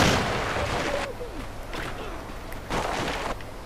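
Gunfire in the Call of Duty: Ghosts shooter game, several bursts of sharp rattling shots, loud and near, separated by brief gaps, with a steady wash of combat noise underneath.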